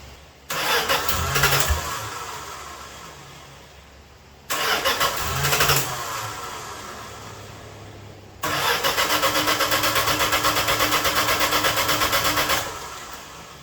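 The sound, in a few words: old car engine starting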